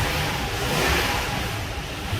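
A Toyota Tacoma engine runs at a steady, slightly raised rev during a coolant system flush with the heater on, giving a continuous, fairly loud broadband roar with no talking.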